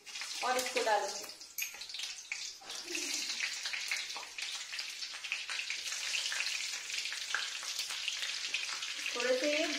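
Cumin seeds and green chili fry in a hot pan for Bihari garlic potato bhujia, giving a steady, close sizzle and crackle that runs throughout with a few soft clinks.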